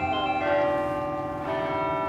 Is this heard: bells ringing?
yes